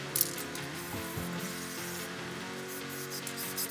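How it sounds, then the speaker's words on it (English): Spray adhesive hissing from an aerosol can for a Snug Bug build, a steady broadband spray sound held for several seconds at close range, with faint mechanical clicks and no talking. "We got a different kind of spray. Well, it's still spray adhesive,"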